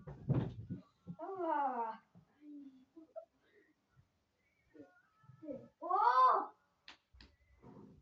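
A cat meows close up, a few drawn-out, wavering cries spaced apart with short quieter noises in between.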